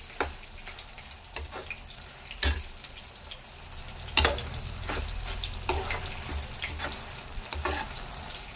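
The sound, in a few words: grated carrot halwa frying in ghee in a pan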